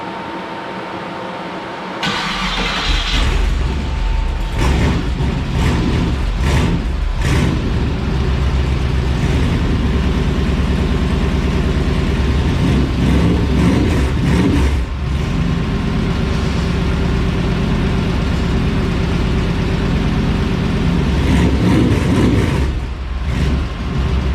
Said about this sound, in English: We'll go ahead and get this thing fired up and let it run for a little while